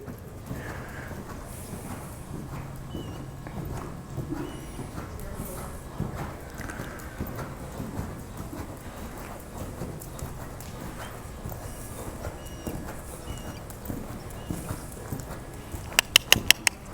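A horse canters in a riding arena, its hooves beating a steady, rhythmic clip-clop on soft footing at moderate distance for the whole stretch, with a few sharper knocks near the end.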